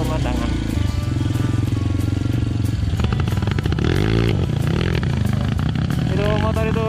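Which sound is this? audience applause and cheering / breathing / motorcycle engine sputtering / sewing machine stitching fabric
motorcycle engine sputtering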